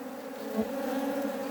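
Native Korean honeybees buzz steadily at their hive, a close, continuous drone without a break.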